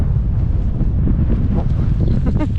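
Strong wind blowing outdoors beside a lake, a steady low rumbling buffet against the microphone that continues without a break.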